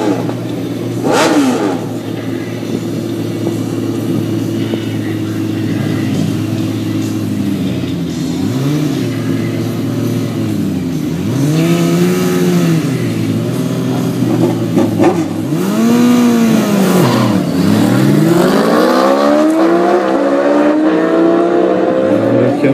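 Motorcycles, including a Yamaha VMAX and a ZX2R, roar off the line at a drag race start, engines revving loud and close with rising, repeated gear-change sweeps as they accelerate away.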